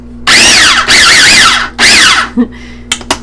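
A food processor pulses corn filling in three loud, whirring bursts with short gaps between them, followed by a few faint clicks and knocks.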